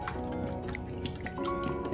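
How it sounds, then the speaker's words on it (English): Eggs cracked into a bowl for a Christmas plum cake batter, soft wet drips and squishy splats of liquid falling, close and fairly quiet, over a faint tonal background hum. "we're gonna break the eggs"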